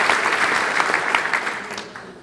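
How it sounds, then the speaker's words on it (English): Audience at a touchdown club meeting applauding, a dense burst of clapping that starts at full strength and gradually fades over a couple of seconds. "Let's give them a round of applause again"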